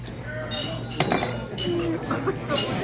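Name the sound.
glasses clinking for a wedding toast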